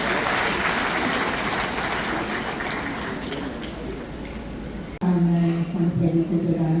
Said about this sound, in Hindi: तो अपने लिए जोरदार ताली बजाइए।